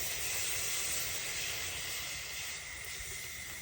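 A steady, loud hiss of water sizzling in a hot wok while stir-frying pork with holy basil, continuous throughout and easing slightly toward the end, with no talking.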